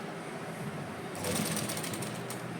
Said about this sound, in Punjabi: ਥੋੜੀ ਥੋੜੀ ਸਲਾਈ ਮਾਰ ਕੇ ਫਿਰ ਸੈੱਟ ਕਰ ਲੈਣਾ